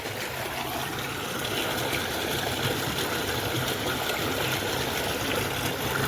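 Water from a pump pours steadily into a pit being filled with mud, a continuous broadband gushing and trickling at moderate level with no voices.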